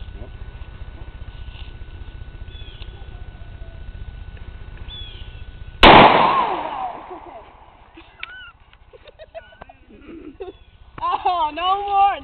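A single loud, close handgun shot cracks out midway through, followed by a decaying echo, after quieter background noise, with excited voices reacting soon afterward.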